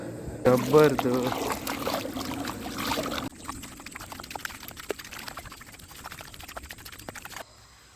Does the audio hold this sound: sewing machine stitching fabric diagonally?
no